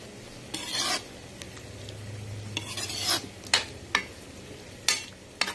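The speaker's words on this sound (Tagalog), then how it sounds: "Haluin natin. Halo-halo lang." Sautéed chayote with sardines stirred in a pan, with bursts of scraping and sizzling strokes that grow sharper and more clipped toward the end, close up and fairly quiet.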